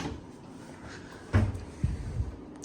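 A couple of soft wooden knocks and a slide as hotel room kitchen drawers are opened and shut, against quiet room tone.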